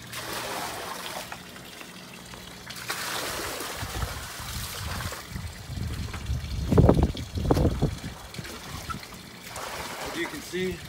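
Liquid beneficial bacteria trickles and pours into koi pond water in a few gurgling bursts, the loudest midway, with low background rumble and handling noise.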